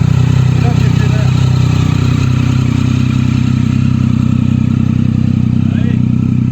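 A small motorcycle engine runs steadily, a loud, close, buzzing drone holding near-constant pitch with a slight rise, while people talk over it.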